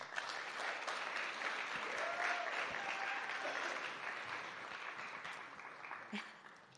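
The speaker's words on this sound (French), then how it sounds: "s'il vous plaît, on l'applaudit" At an honours gala, an audience applauds the director of the organisation Tendre la main, a steady, fairly distant wash of clapping that holds for several seconds and then slowly tapers, with faint voices underneath.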